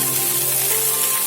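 Green peas tipped into a hot pan with small cut potato pieces over a low flame, giving a steady, dense, close sizzling hiss with no talking.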